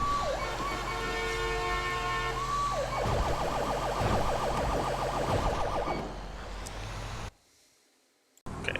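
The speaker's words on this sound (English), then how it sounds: "That's why I have my siren on right now." A fire department emergency vehicle siren in the FivePD game wails continuously, then switches to a fast rising-and-falling yelp before cutting out abruptly near the end, under engine rumble.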